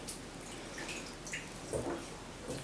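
Water splashes and drips in a home bathtub as it is poured over a baby, faint and scattered with a slightly louder splash near the end, no talking.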